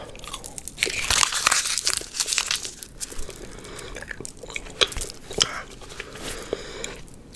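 A piece of gum is unwrapped and chewed close to the mic, with crinkly wrapper rustles and wet, crunchy bites in uneven bursts, and a faint whisper now and then.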